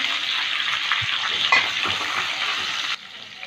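Cubed onion and capsicum frying in a pan for chili soya, giving a dense, even sizzle close by with faint stirring knocks, cutting off abruptly near the end; no one speaks.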